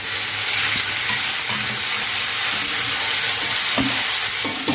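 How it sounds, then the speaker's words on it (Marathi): Ginger garlic paste with cumin frying in oil for a bottle gourd curry, a constant close sizzle with intermittent soft scraping and stirring taps, and no one speaking. "त्यानंतर येणार आहे आपला अद्रक आणि लसणाची पेस्ट."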